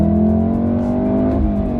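The four-cylinder turbo engine and exhaust of a Volkswagen Golf R hum with a steady, loud drone, as if cruising from inside the car, with no voices.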